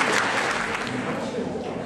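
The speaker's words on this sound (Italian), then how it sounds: "E io accoglierei con un grande applauso Alice Ballance." Audience applause at a zero-waste conference greets a guest speaker, a steady wash of clapping filling the short stretch under a faint voice.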